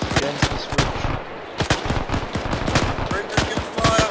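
Gunfire in a military video game operation, with sharp, loud rifle and machine gun shots cracking in irregular bursts and single reports, some close and some farther off, over a constant battle backdrop.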